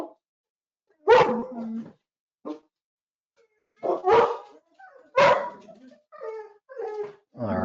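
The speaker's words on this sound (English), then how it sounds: "my dog's about to bark" A dog barks in several loud, close bursts, with whimpering yips between them and short pauses of silence.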